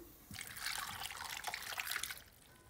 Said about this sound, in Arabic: واخلي كوب المي